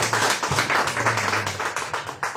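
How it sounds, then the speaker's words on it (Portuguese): Church congregation at a worship service clapping joyfully, brisk rhythmic claps over a low sustained organ or keyboard tone, loud and close for a couple of seconds. "E a igreja recebe o anjo da igreja com palmas bem alegres para o Senhor Jesus."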